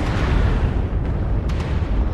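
Continuous heavy rumbling explosions from an airstrike in a mech combat game set in a forest colony, loud and sustained with a few sharper bursts layered on top, no voices.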